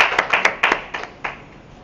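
A church congregation applauds in a short burst of scattered, moderately close hand claps that thin out quickly.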